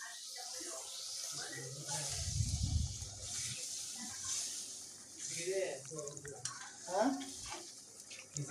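Soft, steady sizzling as eggs fry in cooked-down onion masala for Bengali egg bhuna, with a few louder bubbling bursts and a person talking over the cooking.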